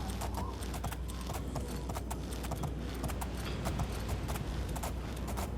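A horse gallops in the video game Oblivion, its hooves clip-clopping in a fast, steady rhythm throughout. The sound is fairly quiet and continuous, with no talk over it.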